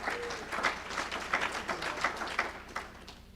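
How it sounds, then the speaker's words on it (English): Applause from an audience at a public officials training session, a fairly sparse, moderately quiet patter of hand claps lasting a few seconds after a speaker is introduced. "So everybody give a big round of applause."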